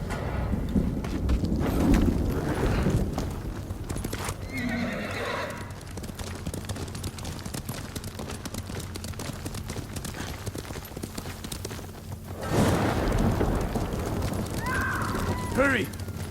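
Horse hooves clopping on a road in Ghost of Tsushima, with whinnies and neighs near the start and again late. Game voices speak over the hoofbeats and a low ambient bed.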